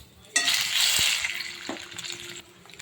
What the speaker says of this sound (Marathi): आता मी तेलामध्ये आधी बटाटा घालून घेणार आहे